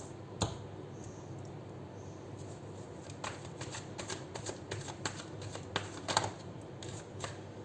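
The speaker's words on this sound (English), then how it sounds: "I take only face down cards" Tarot cards flick and slide as they are drawn and handled for a full moon pick-a-pile reading, soft papery snaps scattered over a quiet room tone.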